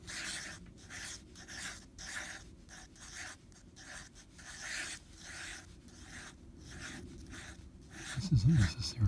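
A 1950s Sheaffer fountain pen draws on paper in quiet, repeated scratching strokes that come in short, regular bursts, with a brief low voice near the end.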